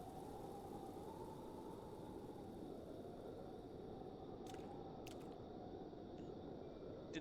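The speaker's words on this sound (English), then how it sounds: "Why is it raining?" Rain falls steadily in the open-world game The Legend of Zelda: Breath of the Wild, a soft continuous hiss with a few brief faint clicks near the end.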